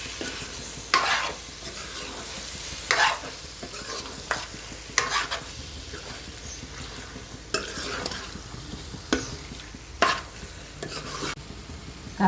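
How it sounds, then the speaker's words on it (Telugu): Chili powder frying in a pan for a Telugu bottle gourd dappalam, with a steady sizzle under repeated scraping stirs of a spoon, close and fairly loud, no talk. "కారం వేగింది."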